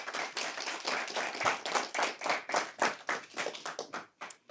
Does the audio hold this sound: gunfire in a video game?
no